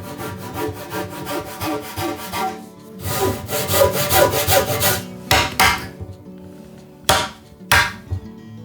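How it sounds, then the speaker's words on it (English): A hand saw cuts a dado in wood with rapid rasping back-and-forth strokes, first in a long continuous run, then in separate bursts with short pauses between, close and loud with no talking. "cut a new dado on the opposite side to install"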